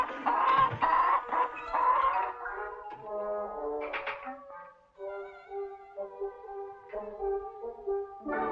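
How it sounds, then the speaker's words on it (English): Hens clucking in a farmyard setting, a run of rhythmic, fairly close clucks and squawks that rise and fall over several seconds with no talk. "Buck, do you know anything about hens?"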